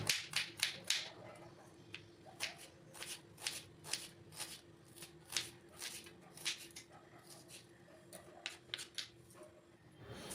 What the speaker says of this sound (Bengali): পেঁয়াজ কুচি করে নিচ্ছি।